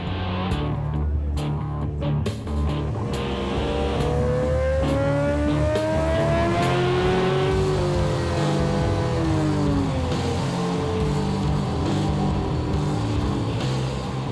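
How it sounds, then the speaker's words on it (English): Canadian Superbike Championship race bike running on a series dyno after ECU mapping changes, its engine revving loud and continuous with rising and falling pitch sweeps that climb, hold and drop away, no talk over it. "the crew heads to the official series dyno to test the effect the mapping changes have had on the Superbike's overall horsepower"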